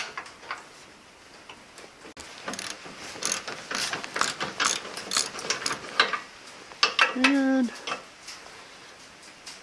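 Ratchet wrench loosening a bolt on a Warn bumper, a series of close clicking ratchet strokes in uneven bursts, with a brief voice near the end.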